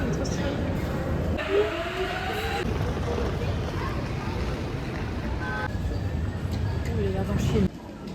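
A Paris metro train rumbles at Gare de Lyon, a steady low roar with rail squeals and rising whines, heard close from onboard before it quiets near the end, with voices faint underneath.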